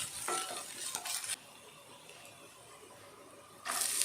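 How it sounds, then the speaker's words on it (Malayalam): Sliced onion and green chilli dropped into hot coconut oil and stirred in a pan, a close sizzle with spoon scrapes, dropping to a quieter simmer before a louder sizzling burst returns. "ഇതിൻ്റെ നല്ലൊരു മണം വന്നു കഴിയുമ്പോൾ അരിഞ്ഞ സവാളയും പച്ചമുളകും ചേർക്കാം."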